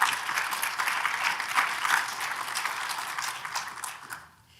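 A lecture audience claps in a sustained, dense round of applause that holds steady and then quickly fades away at the end; moderately loud, without any talking.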